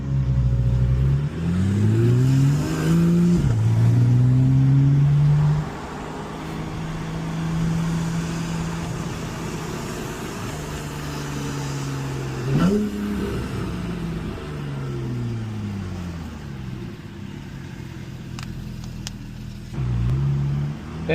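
A Porsche Carrera, not a turbo model, revs and accelerates close by with several rising engine sweeps, loud at the start and then continuing in repeated pulls through the gears.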